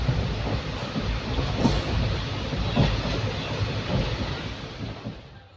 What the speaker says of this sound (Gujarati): ટ્રેન હાલે છે